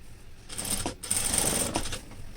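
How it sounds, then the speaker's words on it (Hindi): A sewing machine stitches fabric along the elastic waistband of a pair of pants, running in short bursts with a steady rapid needle chatter and a brief pause in between, close up and without talking. "तो पूरे इसमें हमें ऐसे ही सिलाई लगानी है, इलास्टिक के ऊपर नहीं जाने देना है सिलाई को"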